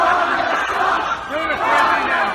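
A crowd at a music festival in the video game Brutal John 2 lets out loud, sustained screams and battle-cry yells, a dense wall of panicked voices swelling and dipping over a couple of seconds.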